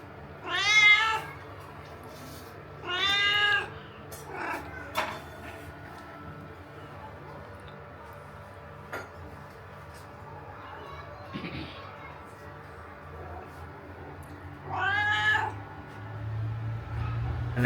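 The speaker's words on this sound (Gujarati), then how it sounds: "તો જો બિલાડી આવી ગઈ છે મિત્રો અહીંયા" A domestic cat meows close by three times, two early and one near the end, with long quiet gaps and low background rumble between the calls.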